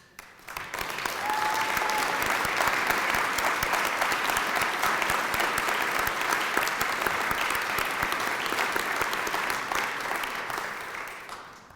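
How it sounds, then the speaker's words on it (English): A memorial lecture audience applauds three people standing to be recognised. The clapping swells quickly, holds as a dense, sustained roar of many hands for about ten seconds, then tapers off. "we could give you a round of applause"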